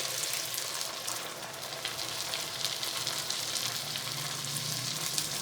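Dal added to frying masala sizzles in oil as it is stirred, a steady close crackling hiss that holds throughout with faint stirring scrapes underneath.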